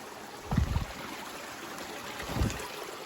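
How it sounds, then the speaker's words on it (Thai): A forest stream flows in a steady, soft wash of water, continuous and moderately near, with two brief louder bursts of splashing or movement close by; no one speaks. "ลำธารที่นี่ค่อนข้างที่จะสวย"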